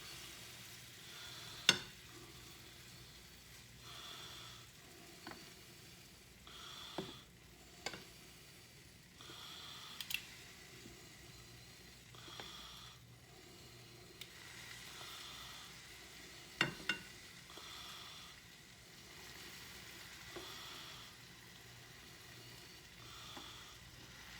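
Beef pieces searing in a pan for a slow-cooked beef vegetable stew give a steady, fairly quiet sizzle, broken by scattered sharp clicks and taps as the pieces are turned one by one.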